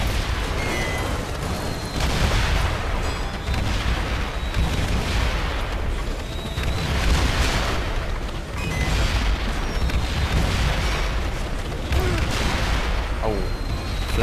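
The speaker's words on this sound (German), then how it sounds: "Die schießen auch immer noch." Constant gunfire and explosions from the video game Shoot Many Robots: a loud, unbroken wall of rumbling blasts and shots with repeated swells, running for the whole stretch.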